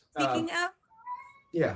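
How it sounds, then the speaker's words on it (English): A Bengal cat lets out one short, fairly quiet meow that falls in the gap between a person's spoken phrases. "that is my cat. He's the noisy one."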